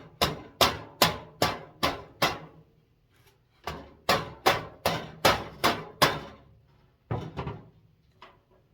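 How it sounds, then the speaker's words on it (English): Sharp hammer blows straightening a bent metal dollhouse wall from a 1951 T. Cohn dollhouse, in two quick runs of about six or seven strikes each, then a couple more, close and loud with short pauses between. "I'm going to hammer right there and bump that back out as far as I can get it"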